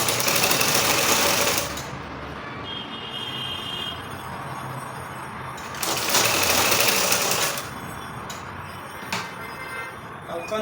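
Sewing machine stitching a sleeve seam on a long-sleeve garment, running in fast continuous whirring bursts, loud and close, with brief slower stretches between them and no talking.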